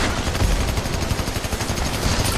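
A grenade launcher fires in the video game Army of Two: The Devil's Cartel, with loud, dense, rapid gunfire and explosive bursts filling the scene without pause.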